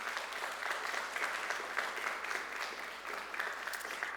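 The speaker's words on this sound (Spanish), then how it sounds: "Denle un aplauso al Señor esta noche." A church congregation applauds the Lord during an evening service, steady sustained clapping from a crowd that runs evenly throughout at a moderate, somewhat distant level, with no voices standing out.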